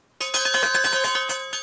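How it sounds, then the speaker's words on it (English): A metal bull bell rings loudly and close, rapid repeated clanks with a bright, sustained metallic tone over about a second and a half. "It's a bull bell."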